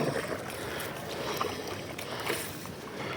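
A canoe is paddled on a swampy lake in Michigan's Upper Peninsula, a close mix of water sloshing against the hull and wind noise over the microphone, lasting a few seconds without speech.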